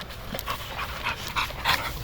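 Guard dogs stirred up toward aggression give short yips, whimpers and panting bursts in quick succession, close and moderately loud, with no voices heard.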